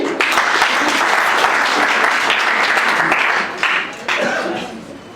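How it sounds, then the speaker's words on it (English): Applause from an audience at an annual general meeting, a dense steady wash of many hands clapping that thins and fades toward the end, with a brief lull and a short renewed burst. "Can we clap hands for him?"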